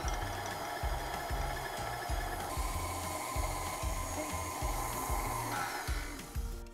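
An electric mixer whisks egg yolks and sugar for vanilla custard, a steady loud motor whir with a rhythmic pulsing beat as the beaters work the bowl, running continuously with no speech.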